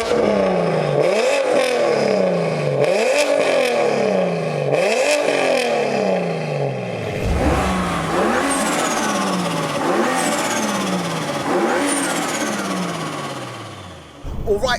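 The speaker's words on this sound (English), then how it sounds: "we're out in this crazy single turbo F81 M3" A 700 hp single-turbo BMW F81 M3 wagon accelerates hard, close and loud, its engine rising and dropping through a rapid series of gear changes, with turbo whooshes, before easing off.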